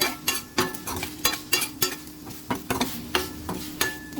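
A noisy frying pan while chicken and potatoes are stirred: rapid, regular scraping and clattering strokes of a utensil against the metal, roughly three per second, over a low sizzle, close and busy, no voices.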